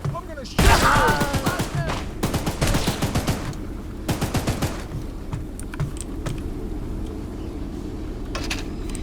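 Rapid bursts of gunfire from the video game Choo-Choo Charles, loud, close clusters of sharp shots in the first half, then fainter scattered pops over a steady low rumble, with a voice shouting among them.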